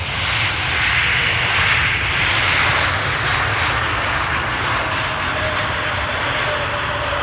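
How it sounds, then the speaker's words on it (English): JetBlue airliner landing at Amsterdam Schiphol, a loud, continuous broadband roar of engines and rushing air that swells and eases slightly over several seconds. "And JetBlue just touched down."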